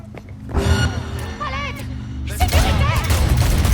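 Gunfire from the video game Cyberpunk 2077 crackles in bursts amid game voices, with the heaviest volley arriving about two-thirds of the way through.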